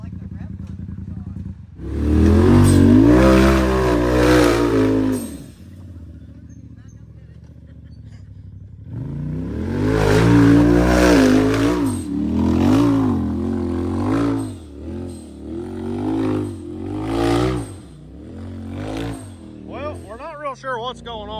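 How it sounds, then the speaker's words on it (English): An off-road vehicle's engine at an off-road park revs hard again and again, each long surge climbing and bouncing against the rev limiter, loud and close, with brief drops to idle between pulls. "It's like the rev limiter's on."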